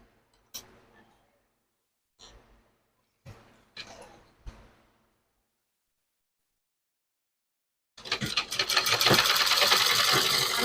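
A sewing machine stitches the folded hem of a palazzo. A few sparse handling clicks come first, then a dense, fast run of stitching fills the final three seconds.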